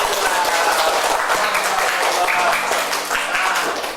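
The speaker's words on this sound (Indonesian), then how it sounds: "Tepuk tangan untuk Nabila" Classroom applause for a pupil named Nabila at an Islamic elementary school, a dense, steady patter of many small hands clapping together, fairly loud and continuous throughout with a faint voice or two mixed in.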